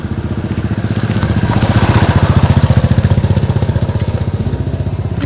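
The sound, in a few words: motorcycles and scooters on a hill road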